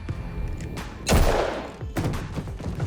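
Gunfire in a tense movie standoff scene, a loud burst of shots with a heavy thudding blast near the middle, then further cracks over a noisy, reverberant backdrop.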